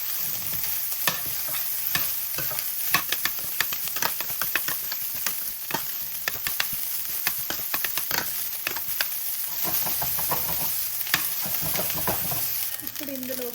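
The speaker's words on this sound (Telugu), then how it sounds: "ఒక 2-3 మినిట్స్ కంటిన్యూస్గా మిక్స్ చేసుకుంటూ ఉండాలి" Rice stir-fried in a hot pan for egg fried rice, a loud continuous sizzle broken by rapid, dense spatula scrapes and clicks close up, with no one speaking.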